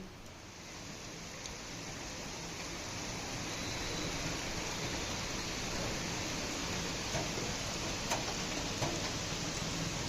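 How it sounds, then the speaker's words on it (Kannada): Steady, dense rain hisses outside, a broad wash of noise that builds slightly louder over time, with no voices. "ಹೊರಗಡೆಗೆ ಬೇರೆ ಸಖತ್ತಾಗಿ ಮಳೆ ಬರ್ತಾ ಇದೆ"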